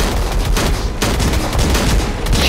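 Gunfire erupts in the video game Cactus Cowboy as loud, continuous bursts overlap into a dense, relentless barrage with a brief dip partway through. No one talks.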